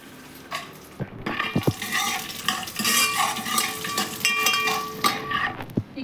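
Cashews and almonds fry in ghee in a pan with a steady crackling sizzle. A spoon stirs and scrapes throughout, giving repeated clinks and scrapes over the frying.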